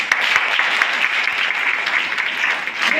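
A church congregation claps together at a Sunday fellowship meeting, a dense, steady burst of many hands sustained throughout, filling the room at an even level.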